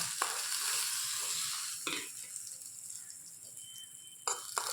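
Hot tempering is added to a raw banana and curd chutney and stirred. A soft sizzle fades away beneath intermittent scrapes and clinks of a spoon against the bowl, quiet and close.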